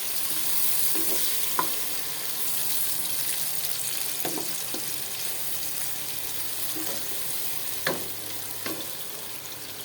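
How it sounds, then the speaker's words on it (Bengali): Plenty of chopped onion fries in a kadai, giving a steady moderate sizzle with a few sharp stirring clicks and scrapes scattered throughout. "প্রথমে আমি কড়ার মধ্যে এই যে কুচানো পেঁয়াজ দিয়ে দেবো একটু বেশি করে।"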